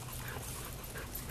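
A dog pants and whimpers softly and steadily during an off-leash recall session with an e-collar, the sound close and low under constant background noise, with no talking.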